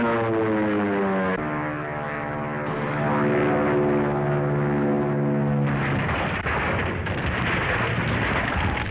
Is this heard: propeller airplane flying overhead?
yes